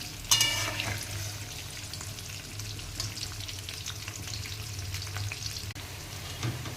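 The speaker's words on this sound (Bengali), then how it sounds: "আলুটা ভাজা শুরু করে দিয়েছি" Potato pieces frying in oil in a pan for a meat dish, a steady close, dense sizzle that runs unbroken throughout with a low hum underneath.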